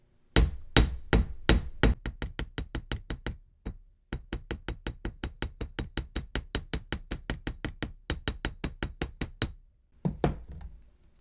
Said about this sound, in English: This is 16 gauge wire, so you can hammer it to your liking.